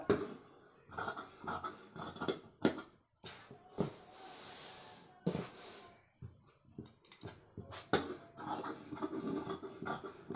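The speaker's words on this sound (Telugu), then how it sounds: "ఇప్పుడు మనం కట్ చేసుకోవాలండి ఇలాగా" Scissors cutting blouse fabric for maggam work, with repeated short snips and rustling of cloth, close and moderately quiet, in irregular bursts over the whole stretch with brief pauses.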